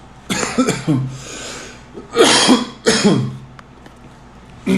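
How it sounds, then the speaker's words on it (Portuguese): A fit of several harsh, close coughs in bursts, with a throaty clearing sound between them and short breaths. "tive um acesso de tosse"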